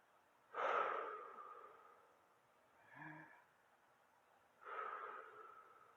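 Slow, deep breaths during a guided breathing exercise, two long exhalations separated by a brief softer sound, close and quiet with pauses between.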